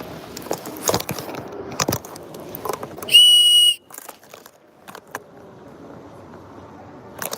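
A single shrill whistle blast cuts through clattering background noise, lasting under a second before fading back to quiet rustling.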